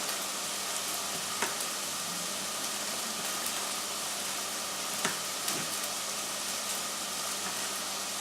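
Carrots and other vegetables for chilli con carne cooking in a pan, a steady low sizzle with a few sharp ticks and clicks of stirring, quiet and continuous with no talk.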